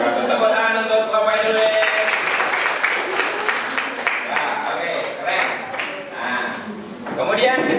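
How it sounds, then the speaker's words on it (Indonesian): Sustained applause from an audience in a school classroom session for Mr. Edelweiss, loud and continuous throughout, with voices and a tonal ringing under the clapping. "Tepuk tangan untuk Bapak Edelweiss"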